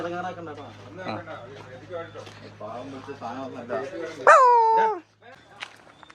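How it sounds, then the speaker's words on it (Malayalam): People talk, and then a dog gives one loud, drawn-out bark or yelp near the end before a short pause and more talk. "നല്ലൊരു നായി"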